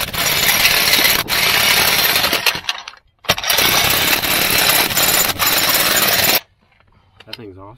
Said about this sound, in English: That's why we had to get a jackhammer, because the job was bigger.